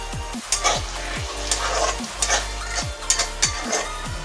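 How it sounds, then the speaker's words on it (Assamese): Pumpkin fries in an open pan for a fish curry dish, with a steady sizzle and repeated scraping stirs and clinks of a spatula against the pan at an irregular rhythm, close up and with no talk. "ঢাকনি নলগা কৰি মই 5 মিনিটমান ভাজি ল'ম"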